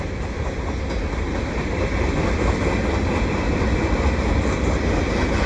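A CP eastbound mixed freight train rumbles past at Dorval, a loud continuous roar of wheels and rail cars with a faint rhythmic clatter, close and steady throughout.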